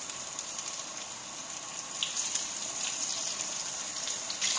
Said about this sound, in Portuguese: A gente vai agora, ó, colocar ele aqui, vamos fritar ele.